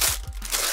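A plastic packaging bag crinkles and crunches while being handled during the unboxing of a D80 condenser microphone, a few close, brisk rustling bursts in quick succession.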